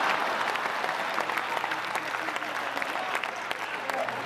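Steady applause from a live audience at a Hindi comedy poetry show, a dense continuous wash of many hands clapping fairly close, with a faint low hum beneath and no break.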